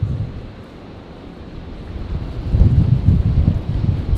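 Wind blows at the plane-spotting spot by Brisbane International Airport, a loud, broadband rushing buffet on the microphone that strengthens and gusts toward the end.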